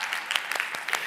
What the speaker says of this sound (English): Wow, claps for that one.